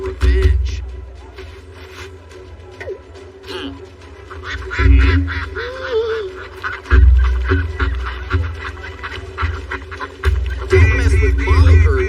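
A mother bird on a sandy beach honks and quacks loudly and repeatedly in harsh, close bursts while attacking, over a rumbling, windy background.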